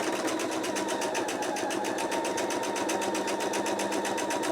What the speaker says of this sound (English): Just start sewing.